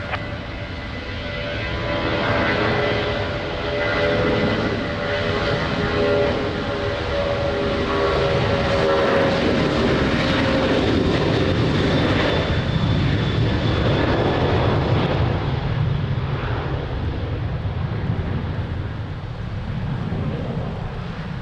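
A jet airliner lines up on a runway at Lisbon Airport in the rain, its engines a loud, steady roar that holds throughout with a broad rumbling wash and faint tonal whine.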